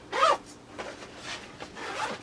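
The front compartment zipper of a hiking backpack is pulled open in one quick, sharp rasp close by, followed by softer fabric rustling.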